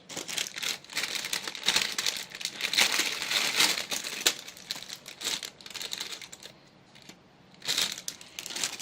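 A toy's plastic packaging crinkled and torn open by hand, close and busy, with bursts of rustling, a short quiet pause, then more crinkling.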